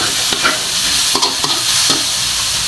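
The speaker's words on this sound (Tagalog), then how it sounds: "Tapos lagyan nyo ng konting mantika para maprito konti para kumulay." Adobo meat frying and sizzling in a little oil, with steady hiss and several stirring scrapes of a utensil in the pan.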